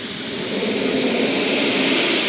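Model aircraft taxi back along the runway at an airshow, their engines producing a loud, steady jet-like whine with a high tone slowly rising in pitch, close and continuous with no talk.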